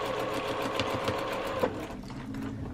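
A sewing machine stitches a quarter-inch quilt seam, a fast, steady mechanical whir with rhythmic needle ticks, close and alone, easing off near the end.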